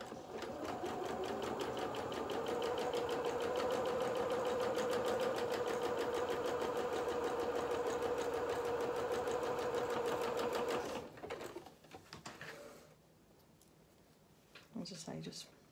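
A sewing machine stitches a seam on doll-sized culottes, a fast, steady whirring run that lasts about ten seconds and then stops abruptly. Light handling noises follow, and a brief quiet voice comes near the end.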